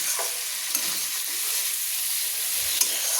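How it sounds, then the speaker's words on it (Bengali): Marinated chicken sautéed with spices in a hot pan for a cabbage chicken curry, giving a steady loud sizzle and frying hiss with a few soft scrapes of stirring throughout, no voices. "দিয়ে আমি ভালো করে চিকেনটাকে কষিয়ে নেব"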